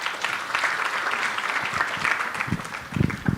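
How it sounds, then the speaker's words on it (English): Audience applause at a book release event, a steady crowd of clapping hands sustained throughout, fairly loud and close with no talk over it. "we need to give them a special round of applause"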